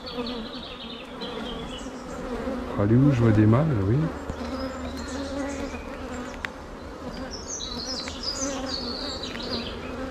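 Virgin queen honeybee piping inside a hive, a short warbling run of tooting pulses over the dense buzzing of the colony, with someone speaking French nearby.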